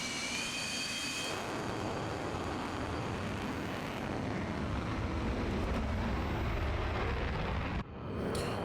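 A MiG-31's jet engine roars on afterburner takeoff in the flight simulator DCS World, a dense, continuous blast that swells steadily louder, then drops briefly before surging on.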